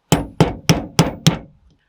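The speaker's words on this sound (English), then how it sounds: "So that one just hammered straight down without the punch." Five sharp, evenly spaced hammer strikes drive a pin straight down into a Winchester 94 lever without a punch, each blow loud and close with a short ringing decay, the last one softer.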